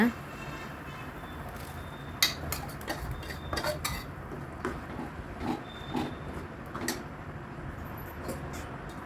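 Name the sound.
stirring ground paste into vegetable kurma in a pot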